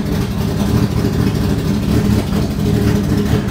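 The modified, non-stock engine of a Honda Civic SiR idles loudly and close up, a steady rough low rumble with a slight lumpy pulse and no talk over it.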